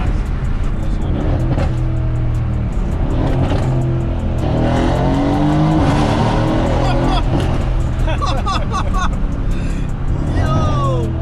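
Mercedes-AMG C63S W205 driving fast and drifting, a loud engine roar that rises and falls with revving and some tire squeal, heard from inside the car while people talk excitedly over it.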